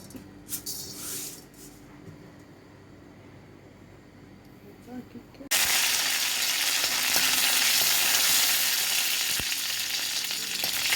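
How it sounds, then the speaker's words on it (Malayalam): Mustard seeds splutter in hot coconut oil for a Kerala-style okra milk curry. The first half is quiet with faint kitchen noise, then a loud, steady, close crackling sizzle starts abruptly and continues to the end. "കുറച്ച് കടുക് ഇട്ട് കൊടുക്കാം."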